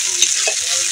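Chicken curry with ground cumin paste frying in a pan, a brief close burst of sizzling with a single stirring scrape.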